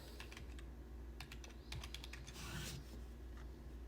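Rapid clicking keystrokes on a computer keyboard as a phone number is typed into an online account setup form, a quick irregular run of taps with a steady low hum underneath and no talking.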